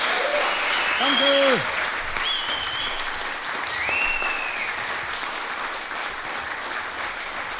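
An audience applauds warmly to welcome a cabaret artist. A dense, sustained burst of clapping fills the room, and a voice briefly offers thanks over it.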